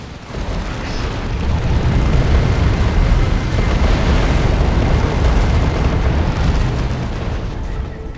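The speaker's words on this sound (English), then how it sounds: "Incoming artillery strike." Artillery strike explosions in the video game Dawn of War II rumble loud and continuous, with heavy booms blending into a dense roar of blasts that carries through the whole stretch.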